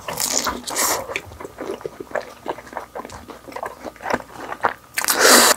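Crunchy bites into seasoned Korean fried chicken topped with mayonnaise, close and loud, with repeated crisp crackling bursts and chewing between them.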